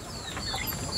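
Native Jawari country chickens on a farm, a brief burst of clucking from a few birds nearby, alone without talk.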